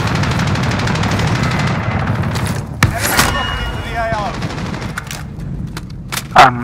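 Gunfire in Call of Duty Warzone: a rapid rattle of automatic shots at the start, then scattered single cracks and thumps, with players' voices talking over the game sounds.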